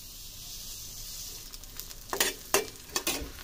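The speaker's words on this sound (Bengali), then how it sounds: "সরষের তেল দিয়ে পেঁয়াজটা লাল করে ভেজে নেব।" Onions frying in mustard oil in a small wok make a quiet, steady sizzle, then a few bursts of louder crackling and stirring scrapes toward the end, close and without talk.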